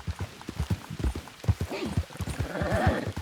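A horse's hooves clip-clop at a steady walking rhythm on a wet road in rain in a video game, close and distinct, with a brief whinny-like sound and a voice speaking partway through.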